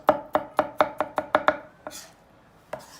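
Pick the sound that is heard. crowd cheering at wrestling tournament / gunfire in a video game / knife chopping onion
knife chopping onion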